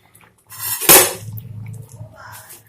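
Close metallic scrape and clink as a ladle dips into a pot of fish curry with potatoes and pours into a bowl, with one sharp knock and faint liquid sounds.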